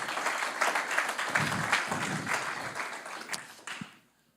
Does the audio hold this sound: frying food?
no